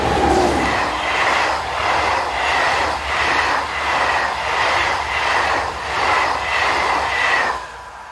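An SNCF BB15000 electric locomotive hauls a Paris to Caen passenger train past Beaumont-le-Roger, a loud, close rumble with a steady rhythmic clatter of wheels over rail joints, fading slightly at the end.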